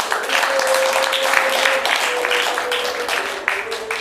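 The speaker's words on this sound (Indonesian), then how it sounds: "Sekali lagi tepuk tangan buat Teater Asa." Sustained audience applause for a theatre group's performance, dense and even, clapping continuously from start to finish with a faint voice underneath.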